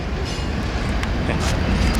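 Train led by locomotives 1836 and 4730 backs up through a rail yard, giving a steady, loud rumble of rolling wheels and engine noise with faint metallic clanks, heard close by and without pause.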